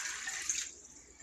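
Water poured into a pot of rice for cooking, a steady bright splashing stream lasting about half a second before trailing off into quiet, close by and alone.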